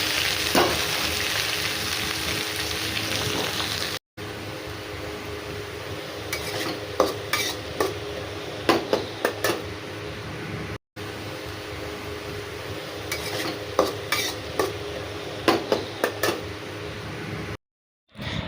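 Leafy greens are stirred and fried with browned onions in a pan: a steady close sizzle runs throughout, punctuated by sharp scraping clicks of a spoon against metal, with a couple of brief cuts in the sound.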